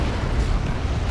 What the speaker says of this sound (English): Stick bombs chucked in